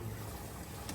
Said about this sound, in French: il faut qu'on comprenne qu'il y a un peu de bruit et c'est le moteur là qui tourne